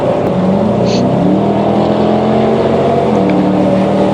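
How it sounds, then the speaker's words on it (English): A Dodge Charger R/T engine drones loudly and steadily with rising and falling pitch as it revs while racing a Mustang GT350, with a faint crackle from the GT350's popping exhaust. "You can hear him popping his exhaust."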